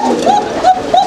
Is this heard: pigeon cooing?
yes